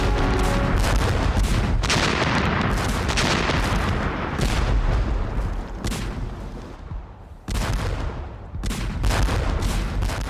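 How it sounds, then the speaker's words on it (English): Sustained British artillery bombardment at the Somme in 1916, with shrapnel rounds and heavy 15-inch howitzer shells: dense, continuous booming and rumbling with repeated sharp blasts, loud throughout and briefly dipping before resuming. "At dawn on June 26, 1916, the shelling began."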